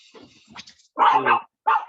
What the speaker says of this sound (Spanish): mi perro se puso a ladrar